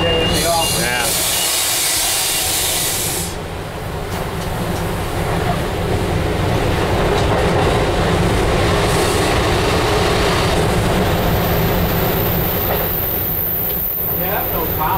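A commuter train cab car being pushed from behind by its locomotive, with a steady rolling rumble and clicking wheels throughout and people talking over the noise from inside the cab.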